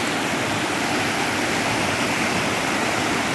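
Tad waterfall pours in a dense, constant roar of rushing water, loud and close with no pauses and no voices.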